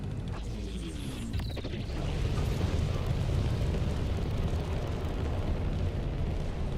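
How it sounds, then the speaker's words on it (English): Boost thrusters of a Panther Clipper ship in the game Elite Dangerous, a broad roaring rush that swells around two seconds in and holds loud and steady through the rest of the clip. "Okay, now listen to this boost."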